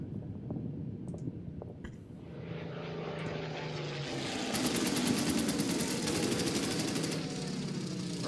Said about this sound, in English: I am going to try to attack this enemy fighter plane